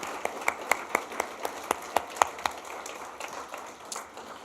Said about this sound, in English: please stand so we can all give you a round of applause